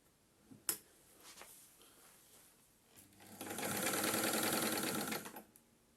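A vintage Singer 316G sewing machine with fashion-disc mechanism runs in a steady rattling burst for about two seconds after a few faint clicks, fairly quiet overall.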